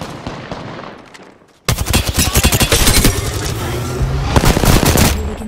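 Rapid bursts of gunfire from an SMG in the video game Apex Legends, dense and loud after a quiet start, with overlapping shots and firefights continuing without pause.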